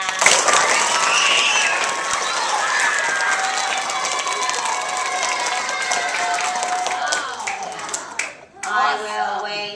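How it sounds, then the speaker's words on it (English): Loud, sustained applause from an audience at an environmental puppet show, a thick roar of many hands clapping as hard as they can, with cheering voices mixed in, tapering off abruptly near the end. "Now clap as loud as you can."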